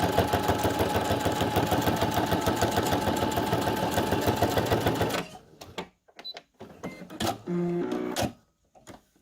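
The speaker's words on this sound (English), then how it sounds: "So I'm going to just straight stitch and now go around on this." A sewing machine straight-stitches around a fabric journal tag in a loud, rapid, continuous run, then stops, leaving a few short clicks and brief machine bursts.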